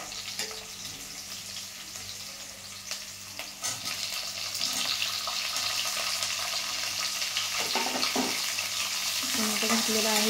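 Onion, garlic and green chilli fry in a pan with tomatoes added, a steady sizzle that grows louder and denser partway through, with occasional stirring clatter.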